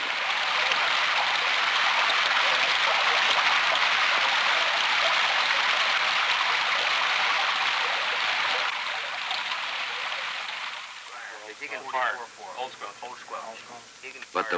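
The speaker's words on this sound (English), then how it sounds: "only the constant sound of rain against metal." Steady, dense patter of rain drumming on metal fills most of the clip, then thins out as a voice starts speaking near the end.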